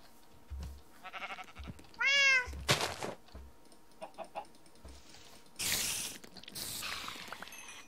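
A cat mob in modded Minecraft, an ender cat, gives several synthetic meows spread across the clip. One longer warbling call stands out among short bursts and clicks, quiet overall and with no talk.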